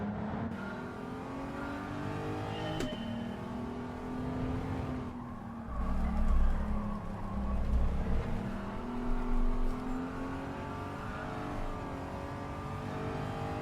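Four-wheel-drive car engine in Gran Turismo 7 during a cornering test, revving loudly with clear harmonic tones that rise and fall, plus bursts of low rumble and brief tire scrub midway.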